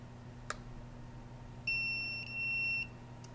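A home smoke or security alarm triggered by a nearby cell phone dialing voicemail, giving a loud steady electronic beep tone that holds for about a second and a half after a brief click, close by over a low hum.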